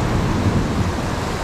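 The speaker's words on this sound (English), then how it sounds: "Just out of nowhere there's been a thunderstorm." Heavy tropical rain pouring during a sudden thunderstorm in Nha Trang, Vietnam, a dense steady roar of rain with low rumbling, no voices.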